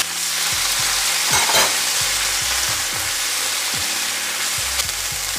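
Bean sprouts and green onions sizzle loudly in a hot pan for chicken fried rice, a constant hiss broken by repeated scraping and tossing strokes of a spatula, close up, with no talking.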